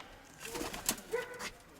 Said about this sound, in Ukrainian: Голубка вириваний хвіст прийшла.